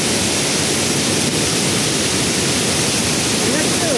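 Kothapalli waterfall, swollen by rain floods, pours over large rocks in a loud, steady roar of dense rushing water close by, with no break across the whole stretch.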